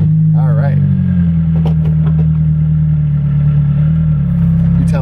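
A Lotus Exige S runs with a loud, steady low engine drone throughout, as if idling and pulling away, with a person talking over it.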